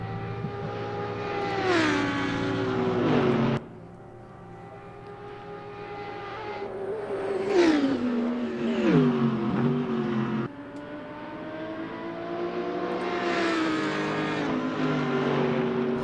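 Race cars, an Aston Martin and a BMW, in Assetto Corsa during a six-hour endurance race, with engines rising and falling in pitch through gear changes, loud and continuous, one car pulling away from the other with no talk.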